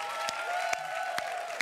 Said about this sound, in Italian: Intanto un bel applauso al letto,